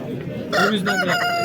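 A rooster crows loudly and close at a poultry market in Kumtepa, Fergana, one short burst of the call rising out of market murmur.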